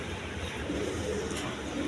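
A pair of Staser pigeons coo softly amid steady background noise, the low, rounded calls blending into a continuous murmur.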